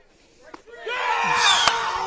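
Crowd at a high school baseball game, a region championship series game, rising from near quiet into a sustained, fairly close swell of cheering and voices, with a sharp smack partway through.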